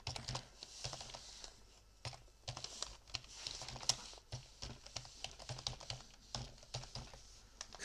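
Computer keyboard typing while entering data into a spreadsheet cell: irregular quick bursts of close, soft key clicks with brief pauses, fairly quiet throughout.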